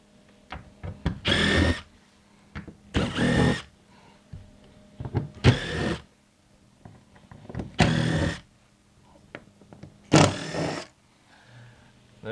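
A power screwdriver backs screws out of a jamb clamp on a BAL Exact-Slide slide-out column, giving five separate loud whirring bursts about two seconds apart, each with small clicks and handling noise in between.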